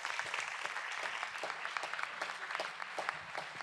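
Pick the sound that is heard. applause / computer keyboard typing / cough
applause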